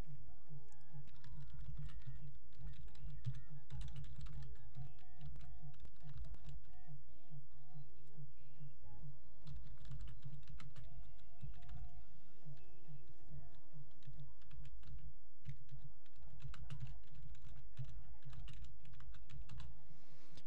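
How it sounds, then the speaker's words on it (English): Rapid typing on a computer keyboard during an online poker session, with continuous close key clicks over a steady low background hum. "I'm still typing with one hand."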